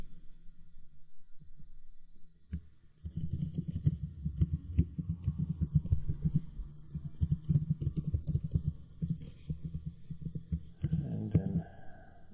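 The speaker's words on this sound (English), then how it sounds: "So I will type mine." A computer keyboard is typed on in quick, irregular bursts of clicking keystrokes over a faint background hum, starting after a short quiet pause.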